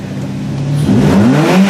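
Ford Fusion engine revving up through the gears toward redline, a loud close whine whose pitch climbs steadily and swells in volume near the end.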